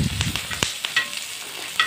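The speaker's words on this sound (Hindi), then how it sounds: "मैं तवा पे तेल रख करके मिर्ची को काट काट के भून रही हूँ।" Chopped green chillies fry in oil on a tawa, giving a close, steady sizzle broken by a few brief scraping stirs and crackles, with no talking.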